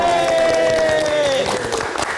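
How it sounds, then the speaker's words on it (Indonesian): Studio audience applause for a band on a live music talk show, dense and loud clapping filling the whole moment while a sustained musical tone fades underneath. "Kita berikan tepuk tangan sekali lagi."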